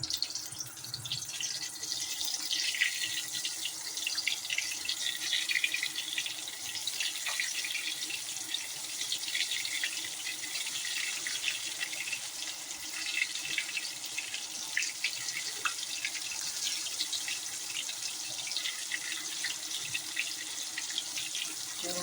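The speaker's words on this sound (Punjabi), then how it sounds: "ਤੇਲ ਹੋ ਗਿਆ ਵਾ ਗਰਮ ਹੁਣ ਆਪਾਂ ਤੇਲ 'ਚ ਛੱਡ ਦਿੰਨੇ ਆ ਬਟਾਉਆਂ ਨੂੰ ਇੱਕ ਕਰਕੇ" Potatoes fry in hot oil, a constant fine hiss and crackle at moderate level with scattered small pops, steady throughout and without speech.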